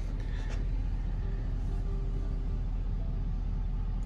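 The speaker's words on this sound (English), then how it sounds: "we're gonna see how the truck likes to pull this big, heavy trailer" A Ford F250 farm pickup with tow mode and exhaust brake on hauls a big, heavy gooseneck trailer along a long, winding driveway, giving a steady low engine rumble that holds evenly throughout.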